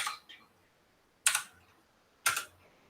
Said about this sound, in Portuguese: Deixa eu dar um enter aqui.